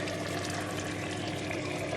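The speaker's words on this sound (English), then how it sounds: "We're going to pour that onto the chicken" Leftover seasoning juice is poured onto chicken for a Jamaican pineapple chicken Sunday dinner, giving a steady, close liquid pour that runs without pause and with no talking.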